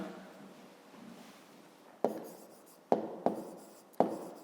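Pen writing out the answer to a fifth-grade maths exercise, a soft continuous scratching for about two seconds, then several sharp taps and short strokes as figures are marked down, close and clear with no talking.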